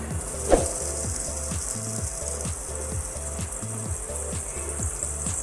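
Butter dropped into hot refined oil in a pan, giving a steady sizzle with a brief sharp crackle near the start and a faint rhythmic knocking underneath.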